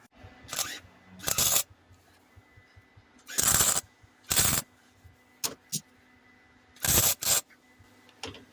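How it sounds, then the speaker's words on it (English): Bursts of tack welding on a go-kart part come in short, sharp crackling zaps of about a second or less, spaced irregularly with quiet gaps, close by and fairly loud. "And I'll tack weld this on."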